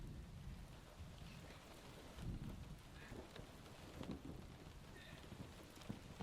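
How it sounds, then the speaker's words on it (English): A rainstorm at night brings a steady wash of rain that runs through the whole stretch, with low rumbles of thunder rolling in now and then underneath it. "rain sounds usually help me"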